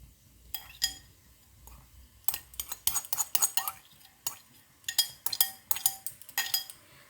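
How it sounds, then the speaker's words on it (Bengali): A spoon scrapes and clinks against a wok as freshly grated coconut goes in and is stirred, with irregular sharp metallic taps and scratches spread across a quiet kitchen background. "আমি একটা এখানে বড় নারকেল কুড়ে নিয়েছি, সেই কোড়া নারকেলটা দিয়ে দিচ্ছি।"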